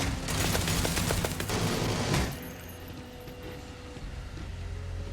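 Rapid gunfire from turrets and robots battling each other in the video game Starfield, a dense rattling barrage for about two seconds that cuts off abruptly, leaving a lower mechanical hum and scattered distant pops.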